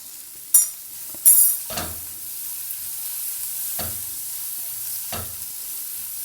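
Tomato, onion and chilli sautéing in a pan for dal fry, a soft steady sizzle broken by several sharp spoon-and-pan stirring scrapes spaced a second or two apart, close and without talk.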